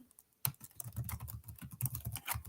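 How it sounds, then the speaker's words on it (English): Rapid typing on a computer keyboard, close and fairly loud, with dense irregular clicks after a short pause and no voices. "sorry for typing in your head"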